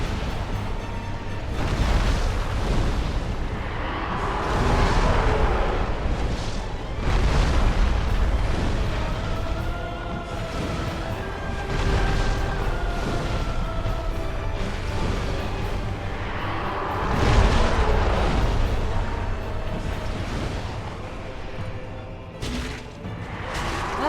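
Fire blasts in the Dark Souls video game roar and boom in a continuous, dense stream of explosive bursts and crackling rumble over the whole stretch, with no voices.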